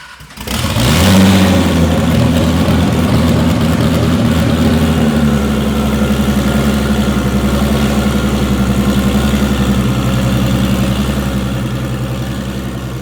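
A turbocharged VR6 engine swapped into an Audi S3 fires up and settles into a steady, loud idle, with a deep, even rumble and a slight shift in tone about five seconds in; no voices.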